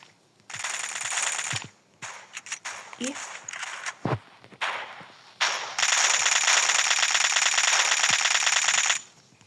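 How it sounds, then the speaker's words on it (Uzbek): Automatic weapon fire in a multiplayer capture-the-flag video game comes in several loud, sustained bursts with short single shots between them, the last burst lasting a few seconds. A voice talks over parts of the gameplay. "Voy, yana otib qo'ymoqda."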